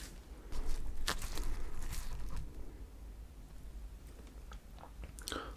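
Quiet close-up chewing and biting of Oreo icebox cake, soft crunchy mouth sounds and small bites repeating over a few seconds, no talking.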